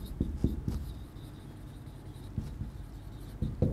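Writing on a board during a geography lesson, faint scratchy strokes in a few short bursts, close and quiet, with no talking.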